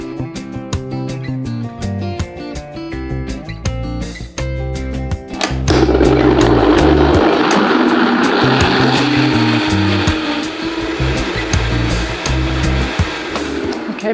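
A blender whirring through boiled chickpeas kicks in partway through with a steady, loud grinding roar, following a stretch of rhythmic music that continues underneath.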